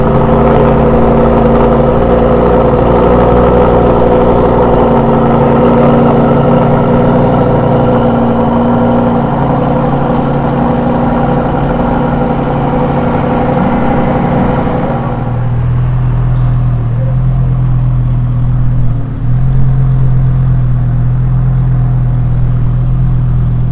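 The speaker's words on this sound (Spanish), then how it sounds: "Ahora vamos a escuchar el sonido del segundo STO mexicano." A Lamborghini Huracán STO idles loudly up close, a deep, steady engine drone with rich low harmonics that drops to a lower, rougher rumble about two-thirds of the way through.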